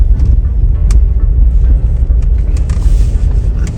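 A car rolls slowly into a parking spot at Chandragiri Hills near Kathmandu, heard as a close, low engine rumble with a few small knocks and clicks, no voices.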